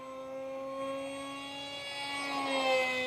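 An NAMC MiG-35B RC model jet driven by an electric motor flying aerobatics at about 60% throttle, giving a steady high-pitched whine with tonal harmonics that swells slightly as it nears, no talking.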